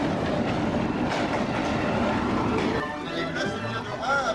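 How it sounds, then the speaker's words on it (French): Passenger train in China, a continuous rumbling roll with clickety-clack of wheels and some metallic squeal toward the end, fairly close and steady. "Et voici notre train."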